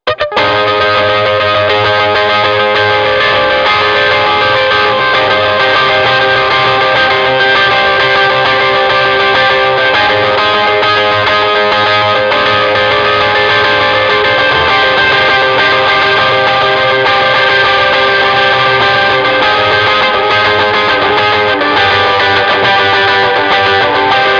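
Sustained electric guitar chords through a Blues Driver overdrive and delay, with echoes trailing behind, loud and continuous with no voices.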